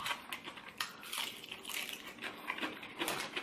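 Bites into a very crunchy fried chicken crust make a series of sharp, close crackling crunches in irregular bursts, one after another, with no talk over them.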